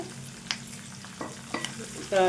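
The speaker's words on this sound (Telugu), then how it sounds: "వెల్లుల్లి రెబ్బలు ఈ విధంగా మంచిగా వేయించుకోవాలి" Garlic cloves, coarsely crushed, fry in hot tempering oil for a tomato and red chilli chutney, giving a low steady sizzle with a few stirring scrapes and a louder burst of frying near the end; no one speaks.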